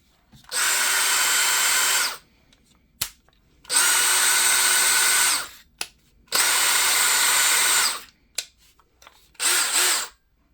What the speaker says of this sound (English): let's look at this atomic drill